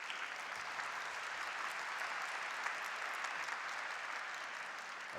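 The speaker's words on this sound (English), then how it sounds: "Applause of the crowd deserved" Crowd applause during a table tennis semifinal at the Polish Open, a steady, even wash of clapping across the arena that holds throughout without a break.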